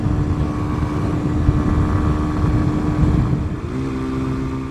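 A Kawasaki Ninja 125 motorcycle loaded with camping gear holds high revs on a motorway. The engine's steady, buzzing drone runs loud and continuous, then its pitch shifts near the end, with wind roar underneath.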